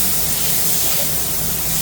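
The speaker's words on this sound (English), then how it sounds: "You want to hear that sizzle, y'all." Stromboli sizzling in hot olive oil in a pan, a loud, steady hiss of frying that runs without a break from start to finish.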